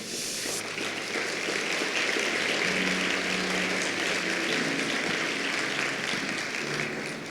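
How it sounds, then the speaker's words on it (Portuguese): A congregation at a church service applauds steadily, a dense wash of clapping that holds at an even level for several seconds. "Quem recebe isso, diga amém, aplauda ao Senhor Jesus."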